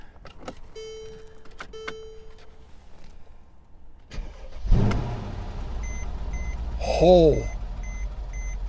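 A Brabus car at a salvage auction yard cranks and fires up, its engine catching with a rising burst and then settling into a steady idle, preceded by a few short electronic beeps, with a man briefly exclaiming nearby.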